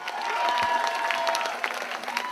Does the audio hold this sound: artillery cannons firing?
no